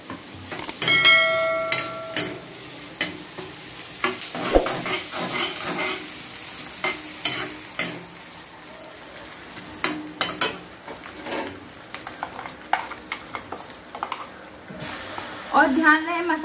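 Spices being fried in a pan while cooking masala pasta, giving a steady sizzle with intermittent stirring clinks and scrapes throughout, fairly close and moderately loud.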